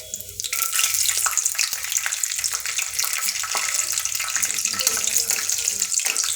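Two tablespoons of peanuts frying in hot oil in a pan, a steady close sizzle with crackling that holds loud and continuous throughout, with no talking.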